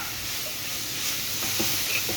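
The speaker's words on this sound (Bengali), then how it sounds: "এবার একটু নেড়ে দিই" Bottle gourd and chicken fry in oil in a pan while being stirred, a steady low sizzle with a few soft scraping stirs near the end.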